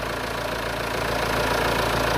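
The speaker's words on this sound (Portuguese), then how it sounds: "Meu motor tá frio e eu fiz aqui um teste." A cold car engine idling, a steady, loud rumbling drone with a faint knocking pulse running through it the whole time, close to the listener with no talking.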